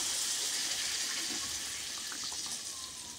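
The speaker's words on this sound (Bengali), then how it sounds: "এখন আমি দিয়ে দিচ্ছি পরিমাণ মতো জল।" Water poured into a pot of simmering potato curry: a steady, close rushing pour holding evenly for a few seconds before easing off slightly, with no one talking.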